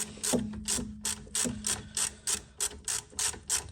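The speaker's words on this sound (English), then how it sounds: "Obviously it would help to have a longer ratchet." A hand ratchet clicks in short, regular bursts while loosening a rear brake caliper bolt on a Volvo V70, each stroke a crisp close metallic ratcheting, about eight strokes in a steady rhythm.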